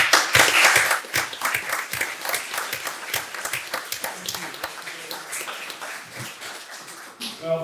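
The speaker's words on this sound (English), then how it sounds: "we've done an awful lot of clapping here this evening" An audience at a council meeting claps steadily, a dense burst of applause that gradually thins and fades, with a voice briefly at the end.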